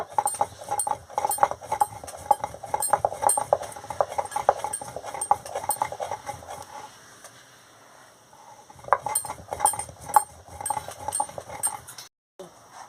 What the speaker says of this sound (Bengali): দেখুন বন্ধুরা লঙ্কাটাকে ভালো করে গুঁড়ো করে নিচ্ছি